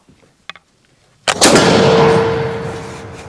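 A flintlock gun fires with 2F powder in the pan: a faint click and a short pause, then a loud close blast with a long rumbling decay and ring, alone without talk.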